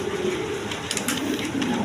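Red Indian Bombai pigeons on a farm coo in a few soft, throaty notes, repeated under a steady background hiss.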